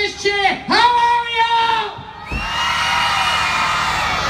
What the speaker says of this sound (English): I want to hear the biggest cheer.